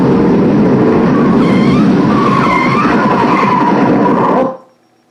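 A car's tires skid loudly on the road under hard emergency braking, a sustained scraping roar lasting over four seconds before cutting off abruptly into silence.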